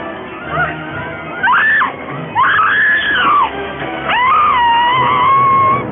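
A woman in a 1950s monster movie lets out repeated high, wavering screams, rising and falling in three loud bursts over a brief pause, with no talk.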